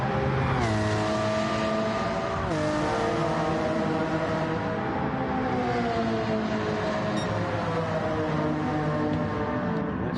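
A Lamborghini Murcielago race car in a Gran Turismo-style Gr.4 racing video game roars continuously, its engine pitch rising through gear changes under constant loud drive noise.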